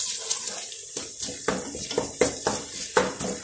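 Onion with ginger-garlic paste sautéed in a pan for chana keema, stirred in about six rhythmic scraping strokes, close and fairly loud with a moist, sputtering texture.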